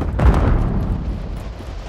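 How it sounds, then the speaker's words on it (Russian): A grenade blows up during a large-scale Ground War battle in Call of Duty: Modern Warfare III (2023), giving one heavy, close, low boom that rumbles on and fades across the moment. "Бросаю гранату!"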